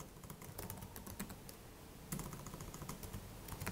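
A web address is typed quickly on a computer keyboard, the close, soft key clicks coming in rapid, uneven bursts at a low level with no voices.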